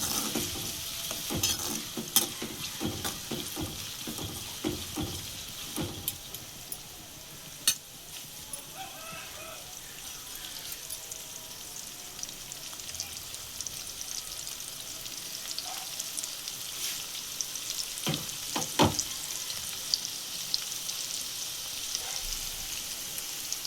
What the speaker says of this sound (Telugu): బాగా వేయించుకుందామండి.